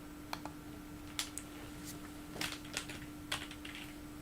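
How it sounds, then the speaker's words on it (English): Computer keyboard keys click in quick, uneven bursts, faint and close against a steady electrical hum, with no talking. "Oh, keyboard. Fall asleep, will you?"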